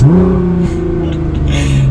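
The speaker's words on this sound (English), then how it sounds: "even just a little acceleration from 20 to 30 like that, just making some noise and keeping the revs a little bit higher" A Toyota A90 Supra engine revs up steadily as it accelerates from 20 to 30, a loud, sustained droning tone rising slightly in pitch, with some echoes.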